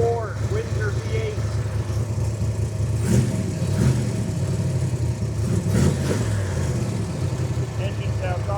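A fuel-injected 427 Ford Windsor V8 in a Factory Five MK4 Cobra replica runs with a deep, throaty rumble and a couple of short revs, while someone talks over it.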